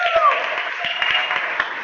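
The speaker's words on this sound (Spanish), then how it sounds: "un aplauso a Dios" Applause from a congregation at a midweek church celebration, a steady wash of clapping at a middling distance with a voice faintly audible beneath it.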